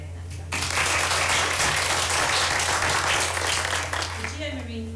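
An audience claps at a school prize-giving ceremony, breaking into sustained, dense applause that keeps going for several seconds over a low steady hum. A voice comes in faintly near the end.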